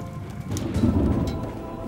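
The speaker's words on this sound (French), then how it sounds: "Comble de malchance, la pluie se remet à tomber." Heavy rain pours down with a deep rolling thunder rumble swelling in the middle, a dense stormy wash with no voices, set on the Waterloo battlefield in June 1815.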